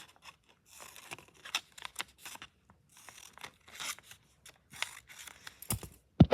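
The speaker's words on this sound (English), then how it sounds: "now I'm gonna cut all of these" Scissors snip through paper in a run of short, close, fairly quiet cuts while an origami shuriken from Naruto is being made, with the blades crunching and rustling in an uneven rhythm and no voice over it.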